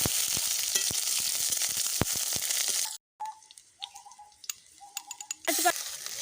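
Whole cumin, chopped onion and green chillies hit very hot white oil with a loud, dense, hissing sizzle, which drops away abruptly and returns as quieter sputtering and crackles with a few clicks.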